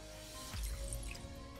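Two cups of water poured into a pot for one-pot chicken and dumplings, a short splashing, dripping gush in a kitchen, close and brief, with no talk.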